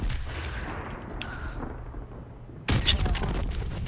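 Gunfire in an online Search and Destroy match of Call of Duty 4 Remastered: a booming shot with a long decaying rumble, then another sharp loud blast that echoes away.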